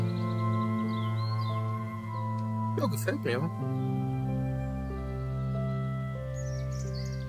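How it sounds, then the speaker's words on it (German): Gentle background music from the point-and-click adventure game Casebook 1899, a steady sustained melodic bed with held tones, playing under a man's speech with a brief voiced passage in the middle. "Jetzt mal ein bisschen Hintergrundmusik hören."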